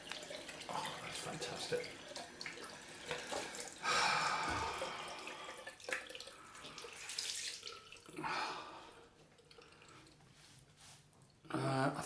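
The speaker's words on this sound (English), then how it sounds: "Right, cold rinse time." Cold water running from a tap as a face is rinsed after a straight-razor shave, with splashing and trickling bursts over several seconds and a short spoken remark.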